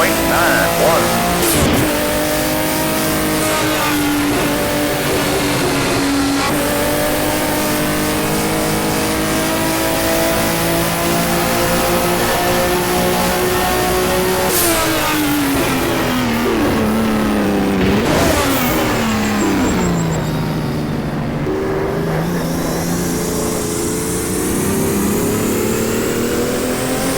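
A BMW M1 engine in the rFactor racing game drones loudly and continuously, its pitch climbing and dropping through gear changes across a long stretch of driving.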